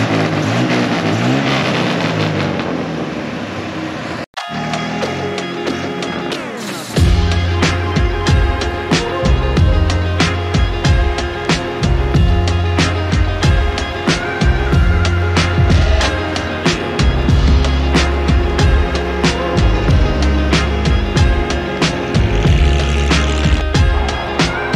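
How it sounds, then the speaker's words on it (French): A youngtimer car with a 250 cubic inch engine and glass pack exhausts, revving and running loud and close, with a brief dropout near the start followed by a sustained, rough engine roar and crackling pops. "avec les glass packs, ça fait que dès que tu relâches les gaz, ça pète un peu"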